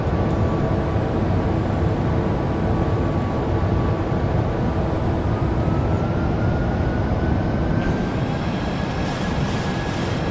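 PMDG 737 jet engines spooling up as the throttles move on approach to Amsterdam Schiphol in MSFS 2024, a loud steady roar with a slowly rising whine and a brief higher tone near the end.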